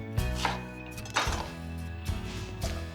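A knife chops through a tomato on a board for a Mexican taco sauce, giving four or five scattered knocks and crunches over steady background music.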